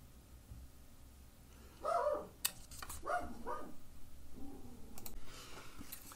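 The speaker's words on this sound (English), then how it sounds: "I'm having a very barky video." A dog indoors gives a few muffled barks from behind a closed door, faint and slightly distant, along with some light clicking and tapping nearby.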